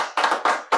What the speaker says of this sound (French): J'entends des applaudissements.